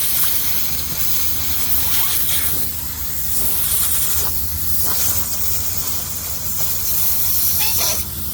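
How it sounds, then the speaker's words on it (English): Steam hisses in bursts as it is blown into a crack in a 1760s Georgian Chippendale mahogany tilt-top tea table, several loud sprays with short pauses between. "Blow the steam into the crack."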